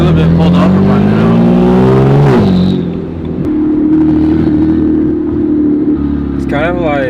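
A single-turbo BMW 335i with a hood exit exhaust revs loudly while driving, the engine climbing, dropping off, then droning steadily, with people talking over it.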